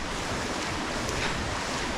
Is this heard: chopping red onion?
no